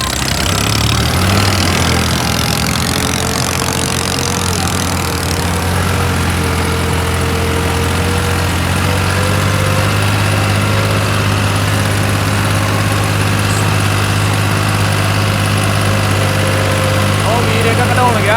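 A heavy tractor engine idles steadily with a deep, constant rumble throughout, close by, with some voices faintly underneath.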